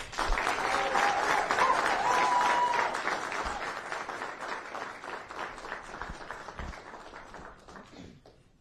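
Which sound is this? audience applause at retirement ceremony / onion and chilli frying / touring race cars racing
audience applause at retirement ceremony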